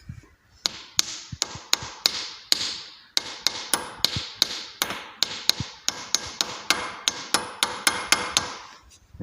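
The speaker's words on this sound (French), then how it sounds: "quelques coups de marteau suffisent" Some two dozen sharp hammer taps in an irregular, fairly quick rhythm, driving a small protective cap onto a pivoting tractor mudguard support; close and loud, with no talk.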